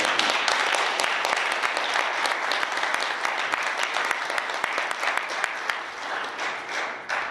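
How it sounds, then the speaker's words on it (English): A fraternity Founders Day audience of Kappa Alpha Psi alumni applauds the keynote speaker, dense and loud clapping that holds steady before gradually thinning and fading toward the end. "give our keynote speaker another round of applause"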